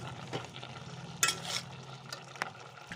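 Bottle gourd pieces with turmeric stirred in a pan, with a low background sizzle and a few scraping utensil strokes and light clinks, fairly quiet and close, with no talking.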